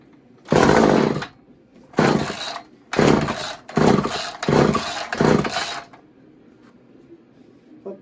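Poulan chainsaw on choke sputtering through a series of short engine bursts, five loud pulls that catch briefly and die, each lasting about a second, close by and with no talk.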